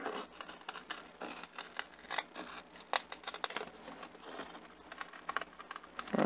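Shears snip through material for a post-apocalyptic water storage tank build, giving soft, irregular close-up cuts and crackles at low level with no talking.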